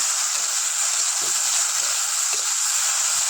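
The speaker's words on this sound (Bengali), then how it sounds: "ভেন্ডিটা ভাজা হোক, আমি দেখো আমার ভেন্ডিটা ভাজা হয়ে গেছে।" Steady, dense sizzle of okra frying in hot oil, close and continuous, with occasional faint soft clicks and no voices.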